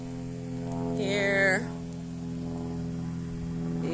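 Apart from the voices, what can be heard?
airplane flying overhead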